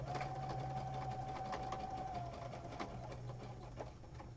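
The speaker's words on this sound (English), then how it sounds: "I've got it set on zigzag stitch, and I'm just going to go ahead and sew right down the middle here." A sewing machine runs a zigzag stitch down ribbon and lace for a junk journal, a steady close mechanical whir with rapid needle chatter that slows and fades slightly near the end, no voices.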